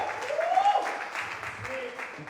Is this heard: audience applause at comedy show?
yes